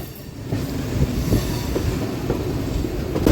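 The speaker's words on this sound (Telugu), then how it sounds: "మన ట్రైన్ ఫుల్ వ్యూ చూసేయండి మరోసారి." A MEMU passenger train running on the main line, a steady close rumble of wheels on rails with faint rhythmic clicks and a rising roar at the end, no talking.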